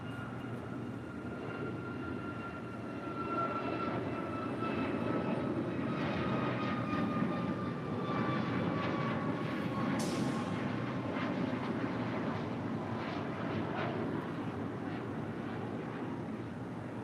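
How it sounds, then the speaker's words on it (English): An Air Canada Boeing 737 MAX 8 jet departs LAX, its engine roar building into a sustained, broad rumble with a whining tone sliding downward as it climbs away. "Next departure here on the south side, Air Canada flight 782 heading to Toronto into 737 MAX 8."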